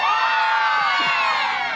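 A big group of schoolchildren cheers loudly for their grade at an Arbor Day assembly, a dense, high-pitched burst of shouts and whoops that holds steady throughout.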